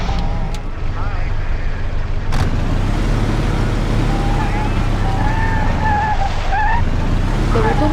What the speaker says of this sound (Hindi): देखो अभी मैं गाड़ी यूज कर रहा हूँ